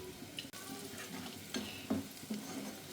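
Chopped onion, green chilli and turmeric going into a frying pan of hot oil, heard as a low sizzle broken by several scraping stir strokes and a sharp clatter at the end, no speech.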